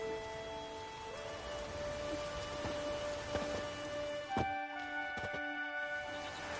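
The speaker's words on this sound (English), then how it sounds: "There's no point standing here in the rain." Steady rain pours in The Witcher video game, a dense even hiss of drops on surfaces with a few louder splashes, no voices over it.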